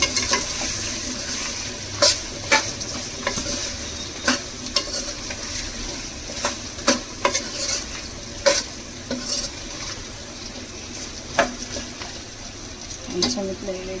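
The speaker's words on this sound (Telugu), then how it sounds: "ఈ టైంలో మనము ఇవి వేసేస్తున్నాం మునక్కాయలు వేసేస్తున్నాను నేను మంచిగా కలుపుకోవాలి దీన్ని" Mutton curry with drumsticks is stirred in a pan, a spoon scraping and knocking in sharp, irregular clicks over a soft sizzle, with a voice talking intermittently.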